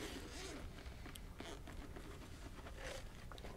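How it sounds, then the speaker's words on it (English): Zippers being pulled open around a carrying case for Amazon tech and audio gear, a close, scratchy run of zipping and scraping with brief clicks and handling noise, no talk. "All right, open up with the zippers."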